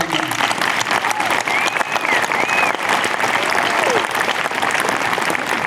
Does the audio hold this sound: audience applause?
yes